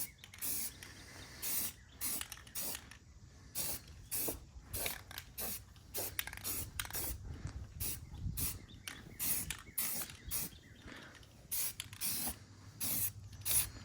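A spray can lays black base coat onto wheels in short repeated bursts of hissing spray, each a second or less, separated by brief pauses and faint handling noises, close and fairly quiet.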